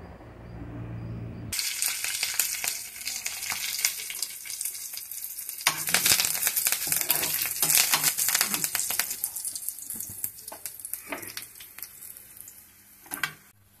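Cumin, garlic cloves and curry leaves frying in hot oil in a pan as tempering, a loud crackling sizzle that erupts after a quiet start, with stirring and sputtering pops continuing throughout.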